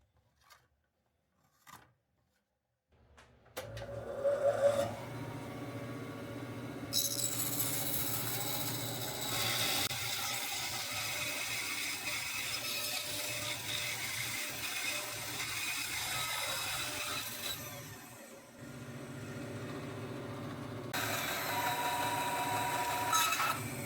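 A bandsaw cutting a cherry crotchwood bowl blank, the motor spinning up after a few light knocks and then a loud, sustained rasping cut that eases off briefly and resumes near the end, with no voices.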